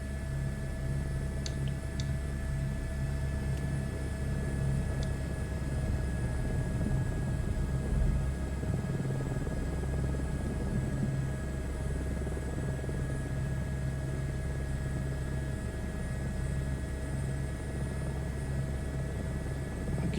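A helicopter on a scenic flight over the Lahaul and Spiti loop lifts off with a steady, droning rotor and engine rumble that holds unbroken and fairly loud throughout.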